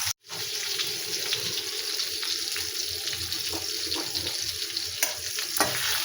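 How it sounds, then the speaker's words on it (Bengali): Fish fries in oil with a dense, hissing sizzle and a few sharp pops and crackles, heard close and loud for several seconds after a brief silent gap at the start. "এবারে মাছগুলো পুরো ভেজে নেব।"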